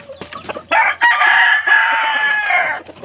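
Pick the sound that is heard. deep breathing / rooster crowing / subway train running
rooster crowing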